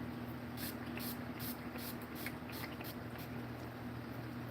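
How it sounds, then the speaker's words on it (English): Several short hissing bursts from a spray bottle of makeup remover sprayed onto a cloth and face, spaced irregularly, close and fairly quiet over a low steady hum. "So I'll just spray the cloth twice, and I'll spray my face."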